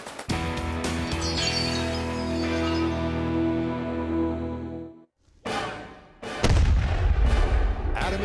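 A period-accurate cannon firing improvised ammunition such as busted grog bottles: a sustained booming, tonal rumble for about five seconds, a brief silence, then more sharp blasts and a heavy low thud.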